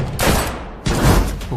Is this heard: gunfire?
yes